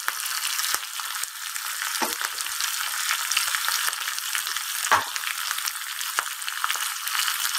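Sesame seeds, green chilies and curry leaves sizzle in hot oil as a tempering for besan khandvi, a steady close crackle with a few sharper pops and no talk.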